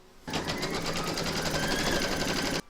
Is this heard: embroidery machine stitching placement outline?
yes